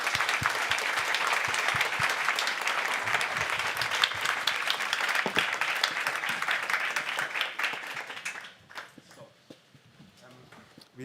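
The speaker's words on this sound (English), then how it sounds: "And we'll give you the applause before you go into hiding." A conference audience claps in sustained, dense applause that carries on for several seconds before thinning out and fading to scattered claps and room noise.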